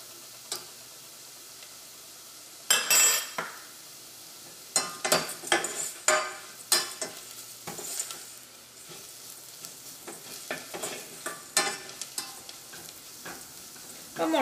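Chili and coriander powder fry in hot oil for a green peas curry, giving a soft steady sizzle. Irregular scraping and tapping from stirring against the pan cuts in and out over it.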